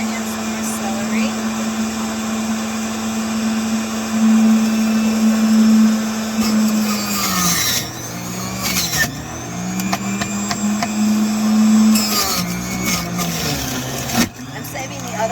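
A juicer runs loudly while pressing parsley and celery, its motor holding a steady hum that briefly dips and surges as produce is pushed in; no speech is heard.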